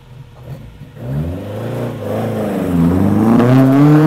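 Opel Ascona rally car revving as it pulls away, the engine note rising and swelling steadily louder over a few seconds, with no talk.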